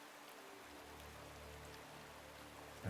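A rain and wind sound effect plays as a soft, steady patter with a low rushing hiss, faint and unbroken throughout.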